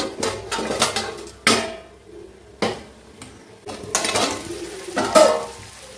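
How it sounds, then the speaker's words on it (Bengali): Vegetables are stirred and sautéed in a pan, with sharp metallic clanks and scrapes of a spoon against the pan in irregular bursts and brief pauses, close up and without speech. "এবার এইভাবেই কষাবো, আর একটু কষাবো"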